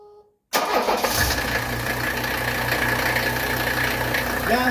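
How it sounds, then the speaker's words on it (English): A 1979 Mercedes 300SD diesel engine, freshly valve-adjusted, cranks and catches after a brief pause, then settles into a steady, loud idle that runs evenly to the end. "let's go ahead and fire this up, see how she runs with a fresh valve adjustment"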